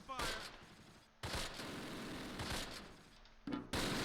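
Bursts of rapid gunfire, battle sounds from the Close Combat Last Stand Arnhem war game set at Veghel, 1944, come in dense volleys broken by brief silent gaps.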